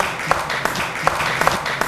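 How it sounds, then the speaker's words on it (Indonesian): Studio audience clapping on an Indonesian television talk show, a modest patter of hands with a few sharp individual claps standing out, brief and moderately loud. "Terima kasih tepuk tangan."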